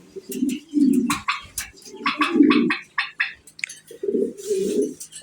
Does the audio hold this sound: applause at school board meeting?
no